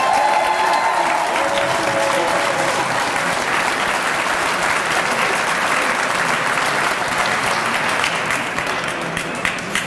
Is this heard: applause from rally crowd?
yes